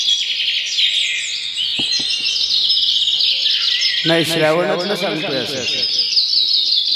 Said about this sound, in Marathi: ही पक्ष्यांची किलबिल आहे, ती अंतःकरणाला स्पर्श करून जाते.